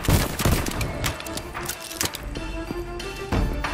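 Rapid gunfire and heavy thuds from the sci-fi shooter VoidTrain, with bursts of shots and booming impacts packed densely through the stretch, loud and close, with a few louder blasts near the start and end.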